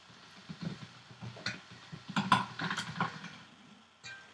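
A sheet of polymer clay is re-rolled through a hand-cranked rolling machine at setting 5, giving a close series of soft mechanical clicks, creaks and grinding turns, fairly quiet, with no talking.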